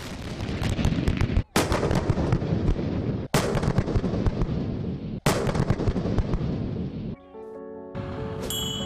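Artillery fires live rounds at night on the Zhurihe training range. Three heavy booms land about two seconds apart, each followed by a long loud rumbling roar, before a quieter stretch at the end.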